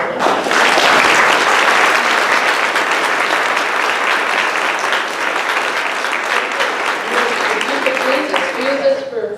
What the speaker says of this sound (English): So now, a round of applause for everyone.